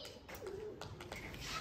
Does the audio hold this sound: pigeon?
yes